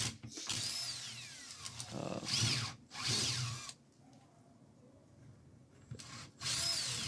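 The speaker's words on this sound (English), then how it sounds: "Yeah, so I drill it out." A power drill whines in several bursts, revving up and stopping with brief pauses between, grinding a deep hole into pallet wood up close.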